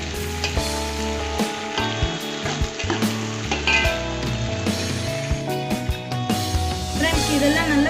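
Mint leaves frying in a pan for kuska rice give a constant crackling sizzle with clinks of stirring, while a background tone hums underneath.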